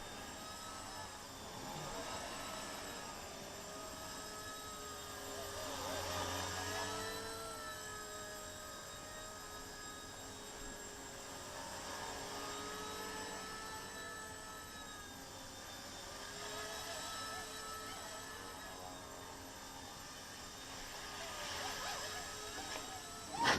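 Eachine E119 micro RC helicopter flying indoors, a steady high whine of small rotors and motor with slight swells in pitch, continuous for the whole stretch and fairly close.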